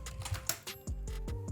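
Someone types on a computer keyboard in a short, quiet burst of key clicks that runs unevenly, then settles into a faint hum.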